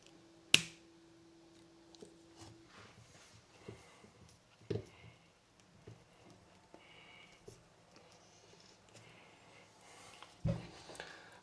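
MC4 solar connectors pushed together, a sharp close snap early on and a few softer clicks and handling taps after, quiet surroundings with no talking.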